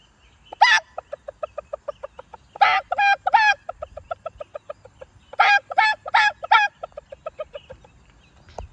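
Rhythmic clucking bursts repeating in groups, ending in crow-like calls, loud and close with short gaps between phrases; a voice imitating a rooster.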